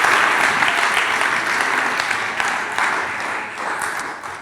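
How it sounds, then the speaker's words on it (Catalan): A large audience at a talk on art and culture gives sustained, dense applause, a steady wash of many hands clapping that carries on throughout at an even loudness. "així que un aplaudiment per tots vosaltres"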